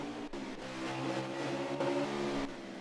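Race cars roar around the Canadian Tire track during a Franks Cup Series event, engines revving and shifting in a loud, continuous near pass with no speech.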